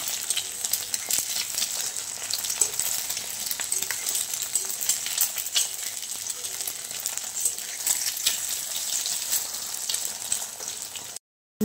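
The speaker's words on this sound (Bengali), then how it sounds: "ডিমগুলো ভেজে নিচ্ছি" Eggs frying in a pan in a home kitchen, a steady bright sizzle running continuously and fairly close, with faint scraping and tapping of a utensil, until it cuts off abruptly at the end.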